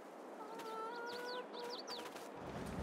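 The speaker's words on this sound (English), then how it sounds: "We have our chickens, so we can do 360 total chickens, of which we start out with 8 chickens and a rooster" Chickens and a rooster on a farm in Farming Simulator 22 give short clucks and chirpy calls over steady ambient farm noise, with a low rumble creeping in at the end.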